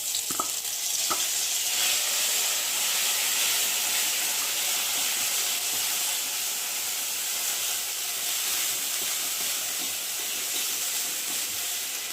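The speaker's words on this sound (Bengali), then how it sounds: "কড়াতে তেল দিয়েছি, তেলটা গরম হয়ে গেছে। আর এখন এই যে বাটাটা দিয়ে ভালো করে ভেজে নেব।" Bottle gourd leaf paste fries in hot oil in a wok, giving a steady, even sizzle and hiss with a couple of faint clinks near the start.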